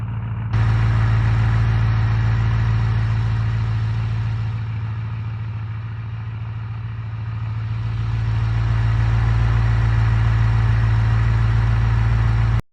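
A car engine in the driving game BeamNG idles with a steady, loud, low drone that runs unbroken throughout, dipping slightly in the middle before swelling back.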